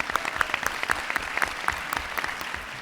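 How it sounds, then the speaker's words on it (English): Audience clapping at a public policy school's Do Good Challenge finals, a brisk round of applause from a seated crowd, evenly paced and moderately loud for a few seconds. "So please, a round of applause for them."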